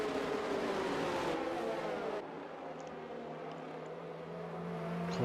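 Formula 1 race cars in a racing video game, set at the Hungary round of a league season, roar steadily throughout, with a higher engine whine dropping midway as another car settles into a continuous drone.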